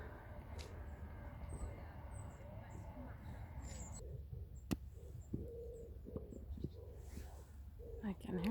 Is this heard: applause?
no